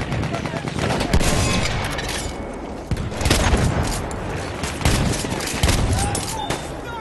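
Constant gunfire and booms from an enemy artillery barrage in the Battlefield 1 video game, a dense loud battlefield din with sharp blasts standing out every second or two throughout.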